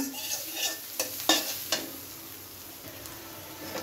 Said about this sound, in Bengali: কুমড়া ভাজি করতেছি